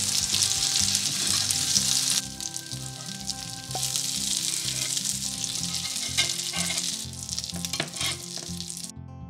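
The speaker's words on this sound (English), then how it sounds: "you're going to flip it over and fry it on the other side" Shrimp cakes sizzle and crackle in hot oil in a frying pan, a steady close hiss with occasional louder pops and stirring scrapes.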